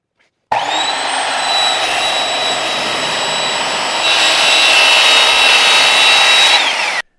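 A saw cuts across an MDF sheet, guided along a plywood saw guide, running as one steady, loud, continuous whine for about six seconds with a high motor tone that drops off at the end; no talking.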